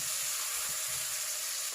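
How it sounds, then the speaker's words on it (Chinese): Garlic stems, ginger and garlic hit hot oil in a preheated wok, giving a steady, close, loud hiss and crackle of frying throughout with no voices. "锅先烧热，再倒油，油温5成热，先下入蒜梗、姜蒜爆香"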